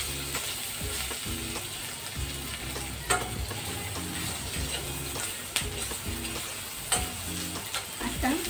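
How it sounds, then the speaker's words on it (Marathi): Okra sizzles and crackles steadily in a hot pan while being stir-fried, with a few louder scraping stirs of the spatula breaking through the continuous frying hiss. "भेंडी आता परतत आली आहे।"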